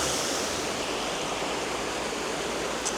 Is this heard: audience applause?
no